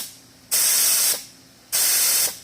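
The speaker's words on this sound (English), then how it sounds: "there's really no way to test it other than with an air nozzle, and I do that" Compressed air nozzle blowing into an air-actuated, spring-return cylinder in a workshop: two loud, sharp hissing blasts of roughly half a second and one second, each followed by a fading tail.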